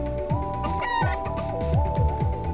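Chickens in an RPG Maker VX Ace video game cluck repeatedly over a steady game-style musical backdrop, short clucks popping up in a loose rhythm, close and fairly loud.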